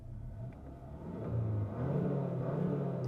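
Inside a 2024 Hyundai Sonata N Line, the engine with active sound design produces a low, steady rumble that swells slightly as it builds, heard alone from the cabin.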